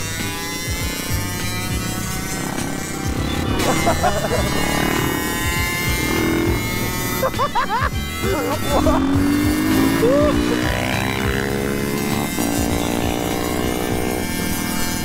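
A KTM 500 EXC-F motorcycle engine drones and revs nearby while riding, its tone rising and falling, with voices of riders talking over it.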